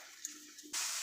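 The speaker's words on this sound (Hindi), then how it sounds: "अब मैं इसमें ऐड करूँगी चाशनी" Sugar syrup poured into makhmali halwa in a pan, a quiet cooking hiss that jumps suddenly into a loud, steady rushing splash as the liquid goes in.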